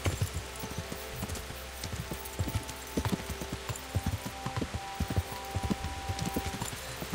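Horse hooves clip-clop steadily while riding in the medieval video game Kingdom Come: Deliverance, a close, rhythmic clatter of footfalls that runs throughout with no talk.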